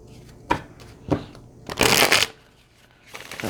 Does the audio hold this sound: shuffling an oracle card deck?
yes